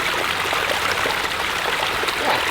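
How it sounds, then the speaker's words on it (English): Water pours steadily down a backyard waterfall in a home garden, a dense, even rush of flowing and trickling that stays close and constant with no voices. "If I just open this up, look at how we start getting more water."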